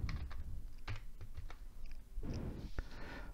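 Soft, irregular key taps on a computer keyboard while entering DISKPART commands in a Windows 10 command prompt, faint clicks over low background noise, with no speech.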